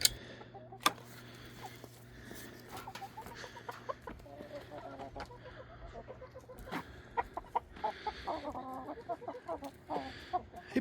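Chickens cluck and a rooster calls intermittently amid scattered clicks and rustling, with a low steady hum underneath.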